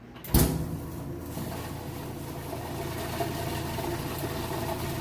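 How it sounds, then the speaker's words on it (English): A Maytag washing machine drains water during its rinse cycle with a steady, fairly loud whooshing pump drone that follows a sharp clunk at the start. No one speaks. "it's moving into the rinse portion. You can hear it draining that water."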